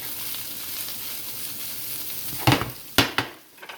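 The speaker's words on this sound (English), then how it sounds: "just one more stir before I put the last thing in here" Chicken and vegetable stir fry frying in a pan on a grill, a steady close sizzle with a few sharper clatters near the end as it is stirred, with no talk.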